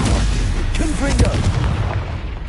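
Booming Confringo blasting spell explosion in the game Hogwarts Legacy, a loud heavy rumble mixed with a voice shouting over it.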